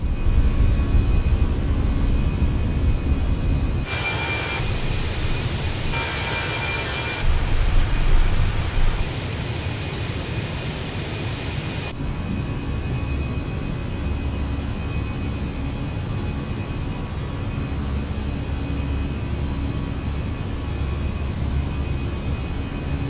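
Simulated Airbus A319 airliner jet engines at takeoff thrust and in the climb, a steady broadband roar throughout, swelling briefly around rotation and settling into a constant drone.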